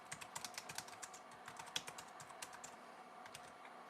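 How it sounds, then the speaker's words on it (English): Quick, light key clicks come from typing on a 1ByOne Bluetooth keyboard connected to an iPad, a fast irregular patter of taps heard close up and alone. "let's go ahead and try to type something on the iPad here with the keyboard."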